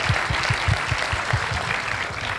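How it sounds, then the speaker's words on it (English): An audience at a startup event claps for a co-founder, steady mid-sized applause with a few louder nearby claps standing out over the crowd. "So a very big round of applause, guys."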